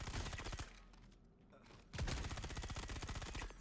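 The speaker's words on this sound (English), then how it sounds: "But I'll quickly see if I can shoot everything." Rapid automatic gunfire in Star Citizen as NPCs are shot, two dense bursts of loud, steady rattling shots separated by a brief lull.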